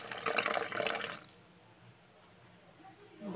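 Milk pours into pancake batter in a brief, close liquid gush lasting about a second, then a quiet lull with a faint sound returning at the end.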